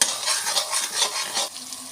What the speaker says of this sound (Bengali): একটুখানি জলের ছিটা দিয়ে গাজরটাকে কষবো